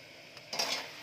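A lid set onto a pan of cooking dill greens makes a brief close metallic clatter, followed by a soft hiss of steam, quiet and alone.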